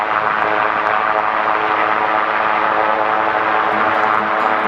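An M-Squared Breese 2 ultralight aircraft taking off, its propeller engine droning loud and steady without a break, with no talking.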